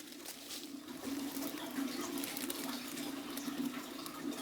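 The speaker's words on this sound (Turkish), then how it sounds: "Suyun çıktığı kaynak burası." Spring water pours steadily from a managed village water source, a continuous gurgling and splashing flow heard close by with no voices.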